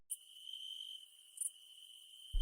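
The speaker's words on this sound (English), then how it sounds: "listening to the crickets" Crickets chirping in the evening, a thin continuous high trill with a couple of brighter pulses, faint and alone in otherwise quiet surroundings.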